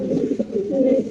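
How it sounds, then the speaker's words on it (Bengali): A fancy pigeon, a Bokhara trumpeter, coos continuously in low soft murmuring phrases, close and steady with no talking. "ফিরোজ ভাইয়ের হাতে আছে এক পিস কবুতর, খুবই সুন্দর মাশাআল্লাহ।"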